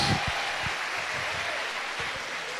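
A church congregation applauds during a thanksgiving worship service, a dense sustained wash of clapping with a few louder nearby claps standing out.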